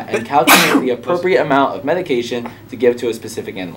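A single sharp, loud sneeze bursts out early, cutting into a person's steady speech, which continues right after.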